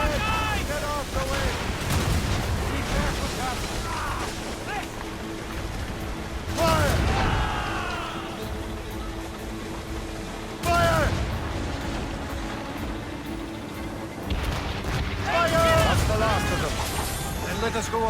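Cannon fire in a naval battle in Assassin's Creed Rogue, with several heavy booming volleys at intervals over dense, continuous battle noise, while voices shout and talk throughout.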